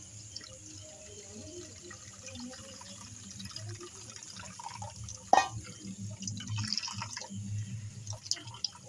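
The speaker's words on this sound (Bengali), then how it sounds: "এবার ছাঁকনিতে ছেঁকে নেব।" Coconut milk, squeezed from coconut soaked in hot water, dripping and trickling through a kitchen sieve, a steady soft liquid patter with one sharper splash midway, close and fairly quiet.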